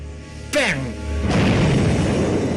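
Tank gun fired at a German Tiger tank during the Battle for Caen in World War II: a sudden sharp report, then a loud, rumbling blast that lingers, with a voice heard just before.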